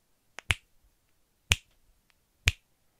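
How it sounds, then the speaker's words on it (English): Three crisp, sharp finger snaps made about three inches from the microphone, each a short isolated crack with a brief decay, spaced about a second apart in a quiet room. "Finger snap."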